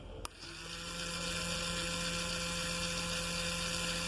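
A small button-controlled electric motor starts with a click and spins up into a steady, high-pitched whine that holds constant, close and fairly quiet, with no talk.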